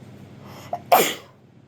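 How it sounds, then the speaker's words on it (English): A single sharp sneeze bursts out close to the microphone after a short indrawn breath, then trails off into quiet. "Sorry, I gotta sneeze."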